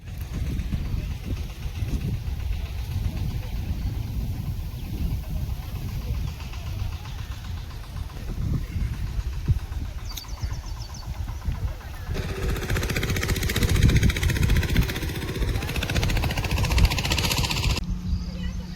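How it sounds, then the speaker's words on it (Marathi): A steady low tractor engine rumble drones throughout as it works a rice field, with wind buffeting the microphone, growing rougher and louder toward the end. "ट्रॅक्टरचं काम चालू आहे बाजूला"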